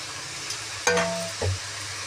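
Chopped tomatoes drop into frying cabbage in a pan and get stirred, a quiet sizzle underneath with a sharp clink of utensil on metal and a soft scrape, close and brief.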